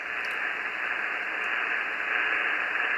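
A Yaesu FT-710 ham radio with noise reduction engaged gives off steady, band-limited hiss and static, a constant even wash of noise at moderate level with no voices over it.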